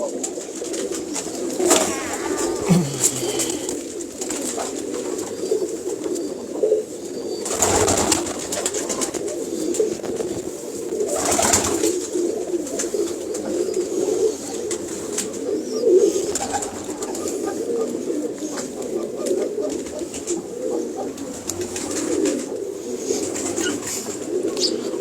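A loft of blue pigeons coos steadily and continuously at close range, a low murmuring chorus with occasional louder bursts and faint chirps, no talking.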